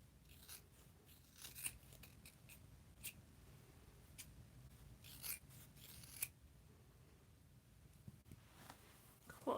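Scissors snip through folded tulle fabric with a few faint, crisp cuts over soft rustling, close and quiet, with no voices.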